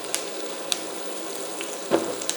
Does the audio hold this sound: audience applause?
no